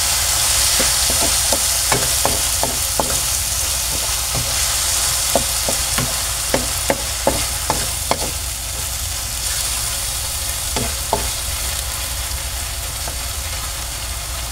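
Shrimp paste (alamang) and chili stirred in a hot pan: a steady close sizzle under a run of sharp spoon-against-pan scrapes and clinks in an uneven rhythm, with no talking.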